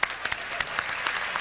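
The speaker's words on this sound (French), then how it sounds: "c'est nous autres qui applaudissons" Audience applause at a comedy awards gala, with individual sharp claps standing out over a thinner, scattered patter of hands, irregular and close.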